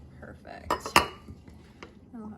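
A utensil clinks and scrapes against a bowl while tabouli salad with garbanzo beans and tomatoes is mixed, with a few sharp knocks among softer stirring sounds close by.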